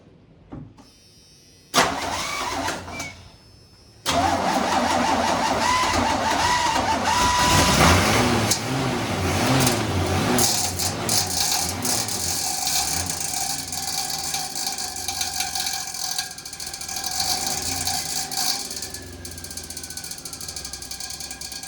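A 1986 Chevy square-body truck that had sat for years cranks with a few short starter bursts, then its engine catches and runs steadily, with a loud, rough idle and mechanical clatter and no voices.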